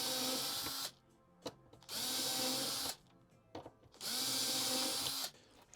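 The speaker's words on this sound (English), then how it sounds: "what I'm going to use is a Vicks bit to drill the holes" A power drill fitted with a Vix self-centering bit bores holes for a key security cabinet, three loud, roughly one-second bursts separated by brief pauses.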